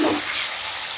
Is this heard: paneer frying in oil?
yes